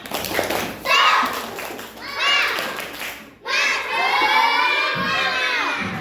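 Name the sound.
children doing a spirit clap chant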